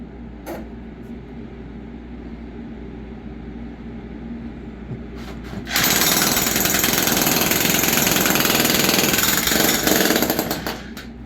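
A low engine idles, then a jackhammer starts up loud and close, breaking concrete in a basement with a rapid continuous pounding rattle for several seconds before easing off.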